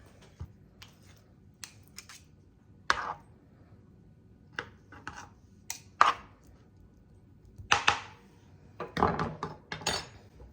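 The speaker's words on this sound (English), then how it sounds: "I'm gonna chop these up into pieces and get them all ready to put in my fruitcake" Candied cherries are chopped into pieces for fruitcake, heard as scattered sharp knife strikes on a board, some single and some in quick clusters, close and fairly quiet with no talk.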